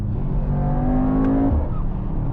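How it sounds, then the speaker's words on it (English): A turbocharged Mercedes-AMG GT 63 S E Performance hybrid revs, and its turbos let out a blow-off whoosh as the engine note rises and drops, heard close and fairly loud with no talk. "The blow-off from the turbos, and it sort of reminds me like the Subaru or the Mitsubishi Evo"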